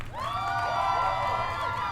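A crowd cheers and whoops with a bright, sustained roar for the full two seconds, loud and close, with a few rising shouts riding over the wash of voices.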